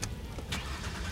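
A car engine starts up in the Watch Dogs video game: a short ignition burst followed by a brief rising rev, up close and alone over steady low rumble.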